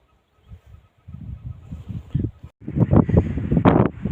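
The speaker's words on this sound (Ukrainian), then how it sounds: "Такий вітер зірвався, що сумку з плечей зносить." Gusty wind buffeting close to the microphone in an open field, building from soft puffs into strong, continuous blustering roar.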